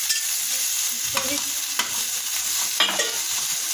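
Mawa (khoya) roasting in a dry pan with no ghee, a close, steady sizzle broken by a few sharp spatula scrapes as it is stirred, with no voices.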